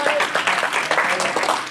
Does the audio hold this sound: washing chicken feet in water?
no